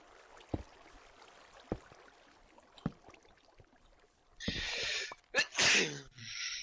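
A person sneezes sharply and loudly, close by, after a stretch of faint clicks, with a burst of noisy breath around the sneeze.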